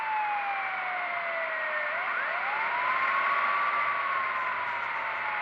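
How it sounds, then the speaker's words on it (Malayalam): Fire engine siren in the Bus Simulator India video game, a steady wailing tone that rises and falls continuously, fairly loud over a low engine rumble, with no talk. "ഇതൊക്കെ പോകുന്നു ഫയർ എൻജിൻ"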